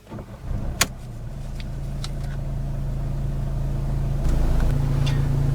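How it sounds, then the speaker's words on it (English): A 2014 Mercedes-Benz E250 AMG is started with the key: a short clatter of the starter, then the engine catches and settles into a steady, low idle that grows slightly louder toward the end, close by with no talking. "turn the key to power on the car"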